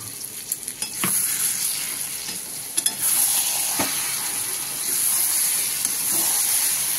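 Eggplant vegetable curry fries in a pan and is stirred, giving a steady close sizzle with scraping spoon strokes and a few louder clacks near the start and middle.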